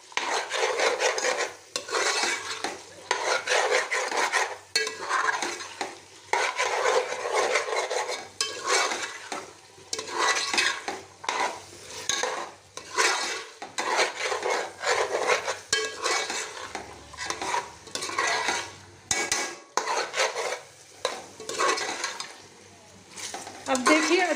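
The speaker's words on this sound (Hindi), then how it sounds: "आलू और मटर डालने के बाद हम 2 मिनट तक इसकी तेज़ आंच पे अच्छे से भुनाई करेंगे।" Potatoes and peas with spices for aloo matar pulao, stirred and roasted in a pan on high heat: repeated, rhythmic bursts of spoon scraping against the pan over a faint sizzle, close and fairly loud.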